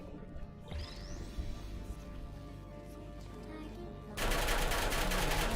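Automated turret gunfire in the Portal 2 video game, a continuous rattling barrage that swells louder near the end, with a voice faintly under it.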